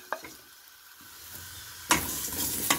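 Food toasting in a little oil in a pot on a gas stove, a low hiss building into louder crackling sizzle after a couple of sharp utensil knocks, close by with no talking.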